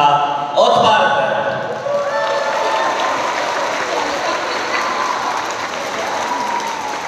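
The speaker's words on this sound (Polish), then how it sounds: "Poprosimy o brawa." Applause from the audience at the opening of the 30th spring kindergarten games in Bełchatów, a loud burst at first that settles into steady clapping with cheering and voices mixed in.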